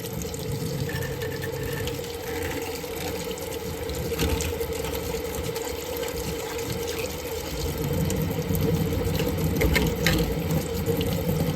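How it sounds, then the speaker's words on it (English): Tap water runs steadily over the plastic blade of a Mainstays 9-inch high-velocity fan during a final rinse, a continuous close splashing stream at a sink with no talking. "So now we're going to go ahead and give the blade one final rinse."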